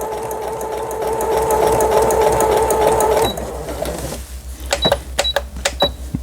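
A Brother XL 9500 sewing machine under repair runs with a loud, fast, steady mechanical whir, then stops and gives way to a series of sharp clicks and taps.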